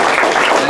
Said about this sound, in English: If we can just give a round of applause to our panelists.